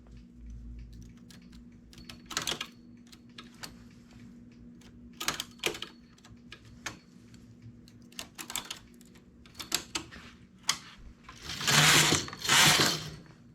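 A knitting machine carriage works a lace round collar, giving scattered clicks and needle clacks, then two louder raspy sweeping passes near the end; no talking.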